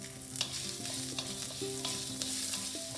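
Ginger frying in a pan while being stirred, a continuous close sizzle with regular scraping strokes of a spoon roughly every half second, and no one speaking.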